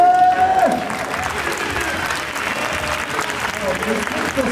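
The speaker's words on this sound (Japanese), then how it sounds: "大きな拍手。" An audience at a men's dance battle final applauds loudly and steadily, a dense wash of clapping and crowd noise lasting throughout, with a voice and some tonal sound briefly audible at the start.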